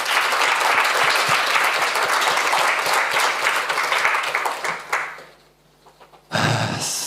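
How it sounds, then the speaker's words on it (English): Audience at an international art critics' congress in Kraków claps loudly and steadily for several seconds before the applause dies away into near silence, then a sudden loud noise returns. "please give yourselves a round of applause because you really deserve it"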